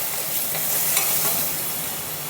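Tomato pieces cook in a pan for pasta sauce, a steady close hiss of sizzling with soft scraping from stirring, even and continuous with no voices.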